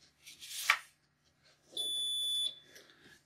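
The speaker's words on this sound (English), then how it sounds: "and you'll hear it beep when it's recognized." An IntelliKeys USB keyboard gives a single short, clear electronic beep as a QWERTY overlay slides in and is recognized, preceded by a faint sliding rustle in a quiet room.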